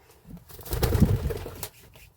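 Pigeons kept by a hobbyist give a low, soft cooing that swells to a peak near the middle and fades, close by with no talk.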